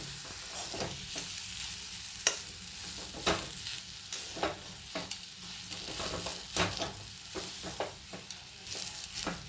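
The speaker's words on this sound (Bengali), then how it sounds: "আবার আমাকে ভালো করে নাড়াচাড়া করতে হবে।" Salted boiled potato mash stirred in a pan, with repeated scraping strokes of a spoon against the metal at an uneven rhythm over a soft background sizzle, close and fairly clear.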